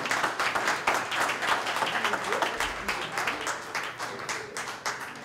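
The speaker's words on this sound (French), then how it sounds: "d'abord, applaudissez cette équipe." At the close of a French round-table conference, the audience gives a steady round of applause with distinct individual claps, moderately loud and continuous for about five seconds.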